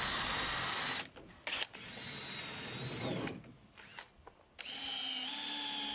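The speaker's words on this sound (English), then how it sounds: "I pilot holed and screwed it on in several places" Power drill boring pilot holes and driving screws through a wooden batten strip on summerhouse shed cladding, close whining bursts of steady motor sound broken by short pauses and pitch changes.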